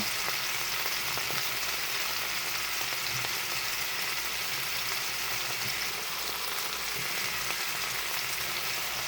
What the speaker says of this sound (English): now the top is seared, the bottom is seared